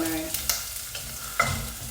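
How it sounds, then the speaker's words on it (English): Garlic sizzles steadily in a hot pan, with a few clinks and scrapes as it is stirred. "while it's stirring and sizzling the garlic a bit"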